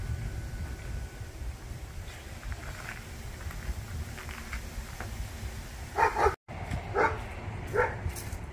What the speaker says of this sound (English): That dog needs to simmer.